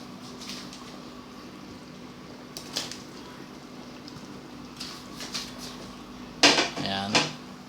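Cookware clatters as bananas go into a simmering pork hock stew: a steady low hum runs throughout, with faint scattered clinks and one louder metallic clank-and-scrape burst near the end.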